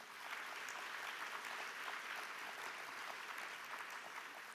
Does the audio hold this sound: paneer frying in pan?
no